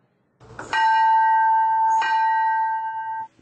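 Two strikes of a church bell in Nicaragua, the second landing as the first still hums, each leaving a long, clear, sustained ring that fades out together.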